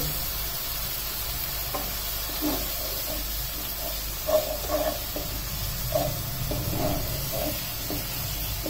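Chili, cumin and coriander powders frying together in a pan for a plantain and catfish curry, a steady close sizzle and hiss with soft stirring scrapes; no talking.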